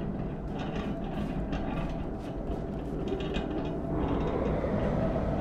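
Crane machinery in the shooter game Wolfenstein 2 rumbles continuously with clattering, rattling mechanical noise and irregular metallic knocks, fairly loud and steady throughout with no speech.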